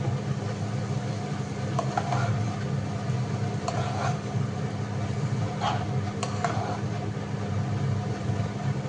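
Chow mein being stirred in a pan, a continuous sizzle under a low steady hum, with occasional scraping clinks of the utensil against the pan.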